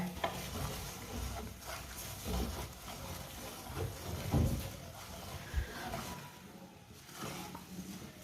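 Jaggery mixture stirred in a pan, soft scraping and low sizzling at moderate distance, quiet and steady with occasional louder strokes and no talk.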